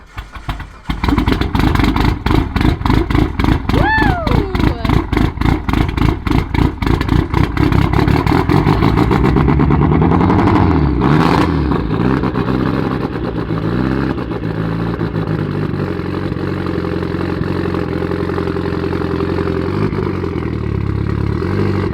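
A car fitted with a 4-bar MAP sensor cranks and fires up, clattering loudly before climbing into repeated hard, throaty revs that settle into a rough, steady roar, close and very loud.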